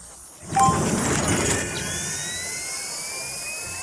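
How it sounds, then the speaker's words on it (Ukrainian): A magical sleigh's engine starts up with a sudden loud whoosh, then settles into a steady jet-like roar and hum with rising whine tones, heard alone without talk. "Наші санчата почали працювати завдяки магічному пилу."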